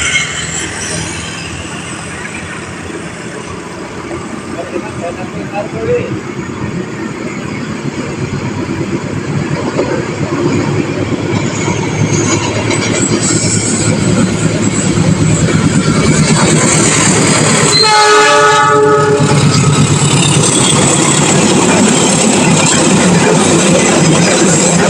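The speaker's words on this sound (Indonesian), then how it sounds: "Ini dia Kak Argo Wilis dari stasiun Bandung dengan tujuan stasiun Surabaya Gubeng, melintas di sinyal muka stasiun Karangsari." The Argo Wilis passenger train passes the home signal of Karangsari station with a loud, continuous rumble and wheel roar that builds steadily. A short horn blast sounds near the end.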